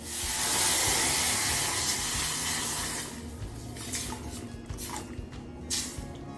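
Milk hits a pan of roasting semolina with a loud, broad sizzling hiss that holds steady for about three seconds, then settles into softer bubbling and crackling.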